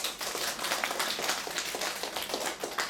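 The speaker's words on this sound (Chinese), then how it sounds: "如果你们在一段关系里面，是你爱对方比对方爱你多，来给自己鼓掌" A live seminar audience applauds at a talk, steady dense clapping from many hands filling the room throughout, moderately loud and continuous without pauses.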